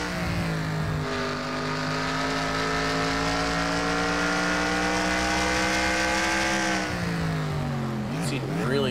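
Race car engine on board at Sonoma in NASCAR Racing 2003, a loud sustained roar holding high revs before dropping sharply into a hairpin, with a commentator talking over it.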